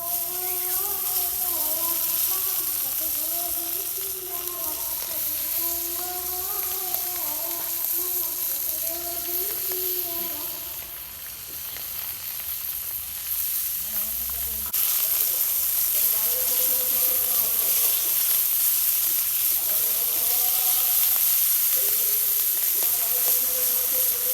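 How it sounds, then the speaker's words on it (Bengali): Hilsa fish fries in a pan, with a continuous close sizzle and hiss that dips briefly midway and then grows stronger, while a voice talks over it. "এই দেখেন আমাদের ইলিশ মাছ বাজা হচ্ছে অনেক সুন্দর করে"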